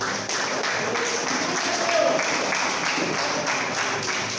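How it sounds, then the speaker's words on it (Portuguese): A church congregation applauds for their pastor, a steady, dense patter of many hands that fills the room at moderate loudness and runs continuously from start to finish. "A igreja pode dar uma salva de palmas pela vida do seu pastor."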